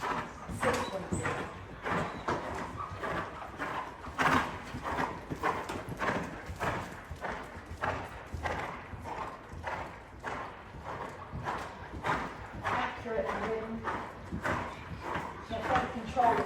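Horse cantering in a dressage arena, a rhythmic run of muffled hoofbeats in three-beat groups, steady and fairly close, with a voice talking over it throughout.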